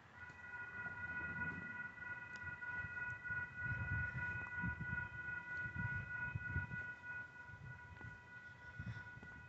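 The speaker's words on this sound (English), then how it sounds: "we have the northbound BNSF Sacramento Loco coming" A northbound BNSF freight local led by locomotives 512 and 556 approaches, its sustained rumble and faint steady horn-like tones rising from a distance with no talk over it.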